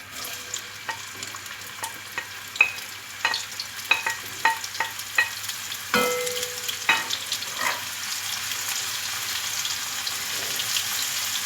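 Chopped onions hit a hot pan for baingan bharta and fry with a steady broadband sizzle, punctuated by sharp scraping stir clicks and a burst of louder crackle partway through; no one speaks.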